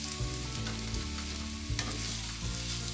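Garlic and onion fry in a pan while a utensil stirs them, giving a steady close sizzle broken by several scraping strokes, with no talking.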